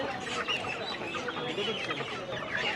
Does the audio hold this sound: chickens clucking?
yes